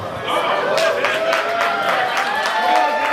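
A crowd at a ball in New York City breaks into sustained applause, a thick, continuous wash of clapping with scattered whistles and voices mixed throughout.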